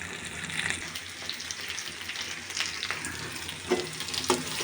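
Masala and fried rohu fish being stir-fried in a pan for kalia, giving a soft, steady sizzle with intermittent scraping and stirring knocks, fairly quiet and close, with no speech.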